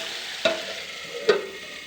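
A curry is stirred in a pan over a soft background sizzle, with two distinct scraping clinks of a spoon against metal about a second apart.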